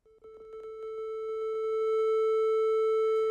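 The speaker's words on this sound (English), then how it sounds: "but we can also compare that to the sound of a triangle waveform." A synthesizer triangle waveform sounds as a sustained, buzzy tone that steadily grows louder over a few seconds, with light clicks at the start.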